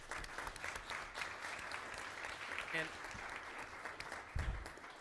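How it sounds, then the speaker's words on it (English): Applause for school administrators at a school district governing board meeting: steady, moderately distant clapping from a crowd throughout, with a brief spoken word near the end. "But I do think we do need to give our administrators a round of applause"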